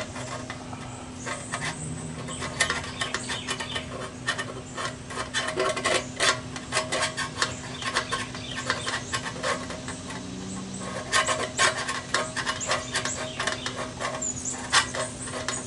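A screwdriver scrapes and picks at rust flakes inside a 1.3 gallon motorcycle gas tank, giving dense, continuous rasping and skittering close by, with a faint steady hum underneath and no voices.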